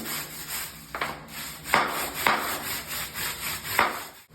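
An edge brush scrubs the grout lines of a tiled shower floor with rough rubbing strokes, several distinct bursts at an irregular rhythm, close but fairly quiet, with no talk.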